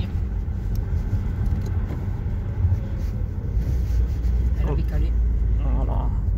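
Low rumbling idle of a car with a fuel pressure regulation fault, the engine running roughly and steadily before stalling, heard from close by with talk over it.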